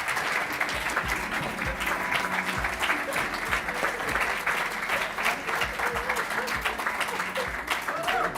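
Sustained applause from an audience at a civil engineering society's presidential inauguration ceremony, steady and fairly loud for the whole stretch, with some voices and cheers mixed into the clapping.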